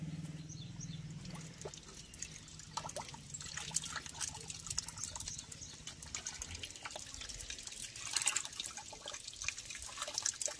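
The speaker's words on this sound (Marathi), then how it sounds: "आता हे आपल्याला पूर्ण शेण असं मिक्स करायचं आहे" Cow dung being stirred into water by hand to make slurry for a village biogas plant, giving faint wet squelches, drips and trickles in an irregular rhythm, close and quiet.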